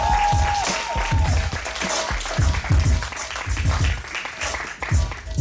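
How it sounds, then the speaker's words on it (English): An audience at a live show applauds and cheers, a steady dense clapping crowd sustained throughout, with shouts and voices mixed in. "I want y'all to put your hands together and give it up for Mr. DeAndre Whitney"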